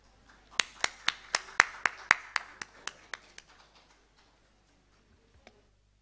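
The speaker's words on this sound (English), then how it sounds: "So let's put our hands together for Sir" A single pair of hands claps sharply for filmmaker Neela Madhav Panda, about a dozen evenly spaced claps at close range that peak, then taper off into quiet with one faint later tap.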